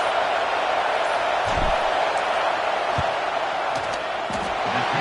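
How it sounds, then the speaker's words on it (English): A large football crowd roars steadily in the stadium before a field goal attempt in a Michigan vs Ohio State game, a dense continuous wall of noise with a few louder swells. "This crowd trying to do its part to get inside the kicker's head."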